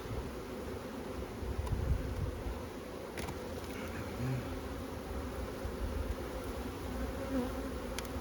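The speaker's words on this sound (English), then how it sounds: "They're quite a calm bee, really." Honey bees, calm docile black bees, drone steadily around an open hive in an outdoor apiary, a continuous close buzz with no talking.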